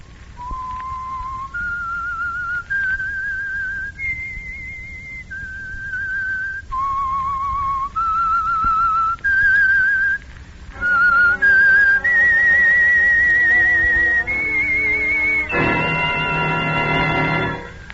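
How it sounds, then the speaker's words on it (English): A person whistles the theme of the radio program The Whistler, a short series of clear, sustained notes stepping up and down in pitch, ending with a richer, louder final phrase; no speech. "That whistle is your signal for the signal oil program"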